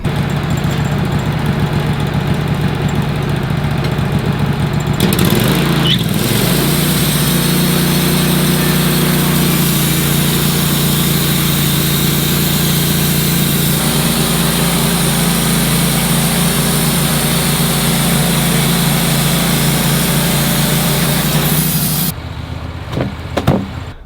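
A loud sawmill engine drones continuously at a steady pitch with a rough, grinding edge while cutting a log long left on the ground, running for a long stretch before abruptly dropping off near the end.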